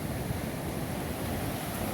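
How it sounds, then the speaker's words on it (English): Ocean surf of roughly four-foot waves breaking on a Central American beachfront, a steady broad wash of whitewater with some wind rumble, continuous and moderately distant. "about 4 feet waves right here, or it could be higher actually. But the way it's breaking"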